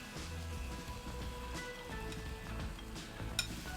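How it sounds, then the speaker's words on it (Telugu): Marinated chicken sizzles and fries together with onions in a pan for a home curry, a steady broadband crackle with occasional stirring clinks and one sharp tap near the end. "చికెన్ వేగుతుంది."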